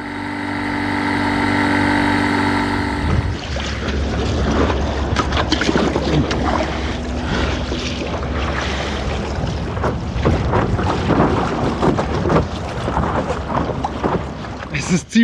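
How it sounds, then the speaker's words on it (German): Strong wind buffets the microphone on a lake while paddling a kayak or paddleboard, roaring and gusting loudly throughout, with splashy water noise mixed in after a brief quieter start. "Es ist ziemlich windig."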